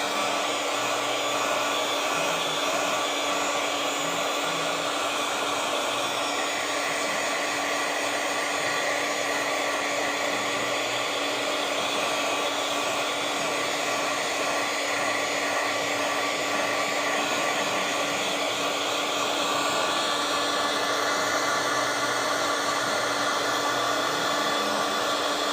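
A hair dryer runs nonstop to dry paint on a craft project, a loud close whooshing roar with a steady underlying hum and slight shifts in pitch as it moves, no voices.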